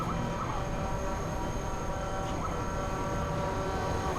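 An NYC subway train, an R62A, R142 or R262 on the downtown local 1 line, nearing a station: a steady loud rumble with sustained tonal whine throughout, alone without talk.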